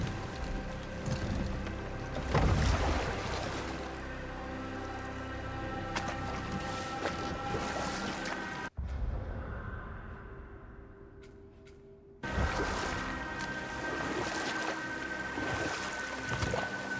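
A boat glides across water in God of War, with steady lapping water and wind ambience that drops away briefly mid-way before resuming at full level.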